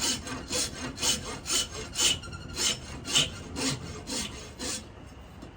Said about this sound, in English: I shape everything with this rasp.